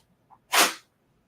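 A single sharp sneeze bursts out, breathy and bright, preceded by a faint short intake of breath, then quiet.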